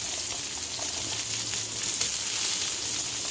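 Sliced onions sizzle steadily in a hot pan while kare-kare is being cooked, a continuous close frying hiss with no pauses or talk.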